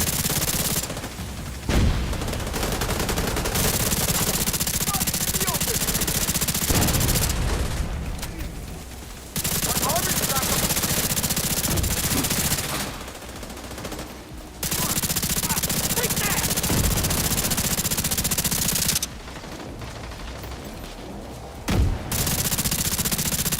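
Rapid gunfire from The Division 2 shooter game, sustained bursts of shots with booming hits and brief lulls between volleys, loud and close.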